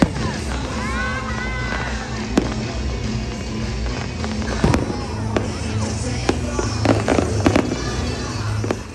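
Repeated fireworks bursts popping and crackling over a steady crowd murmur at a Los Angeles field, with sharp loud bangs scattered throughout and a dense cluster of crackles toward the end.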